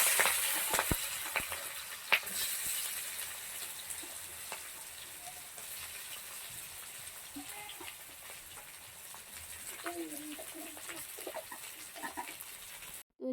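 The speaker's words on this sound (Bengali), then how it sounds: "তো এদিকে আমার তেল গরম হয়ে এসছে, তখন তেজপাতা দিয়ে দিলাম।" Bay leaves, green chili and onion fry in hot oil, a steady soft sizzle with crackles, close and continuous for several seconds, with faint background noises.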